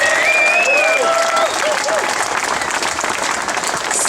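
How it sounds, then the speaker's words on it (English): A union rally crowd breaks into loud, sustained applause for a speaker, dense clapping with a few whistles and cheers in the first moments, holding steady throughout. "Give her a big round of applause"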